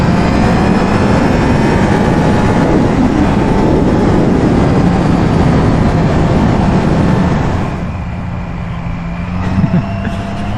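A Triumph Trident motorcycle on a test ride: a loud, steady engine drone under heavy rushing wind noise, easing slightly toward the end.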